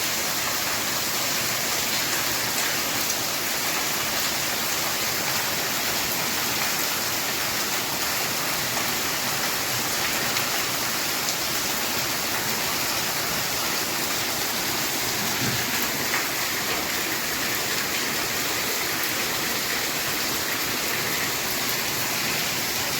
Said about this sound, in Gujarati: અને વરસાદે માંડી ધબધબાટી છે.